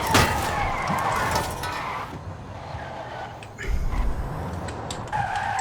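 A Porsche Taycan electric car launches hard in Forza Horizon 5, its tires squealing and motor whine rising as it accelerates, with a steady loud drive sound and a renewed surge partway through.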